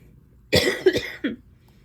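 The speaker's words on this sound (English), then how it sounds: "I still have a cough" A single person coughs a few times in a short, close burst, with quiet before and after.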